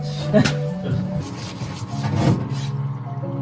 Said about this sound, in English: So I will put this in the parts washer and clean it out right now.